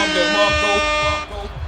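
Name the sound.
air horn sound effect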